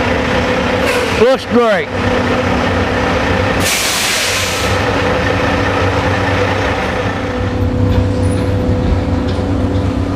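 A loading truck pulls into a tarping station, its engine rumbling steadily throughout with a brief air-brake hiss partway through, while a person speaks briefly over it.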